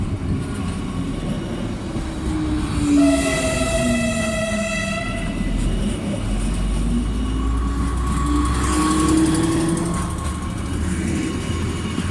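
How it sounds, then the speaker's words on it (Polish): A loud UBB (Usedomer Bäderbahn) train rumbles steadily throughout as it departs Świnoujście Centrum station in Poland, with a long two-tone horn blast partway through and metallic squeals as it moves off. "Poczekam na odjazd tego składu UBB"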